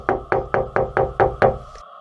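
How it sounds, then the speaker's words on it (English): Seven sharp, evenly spaced knocks on a car window, loud and close, each with a brief hollow ring, then quiet. "He knocked again, harder this time."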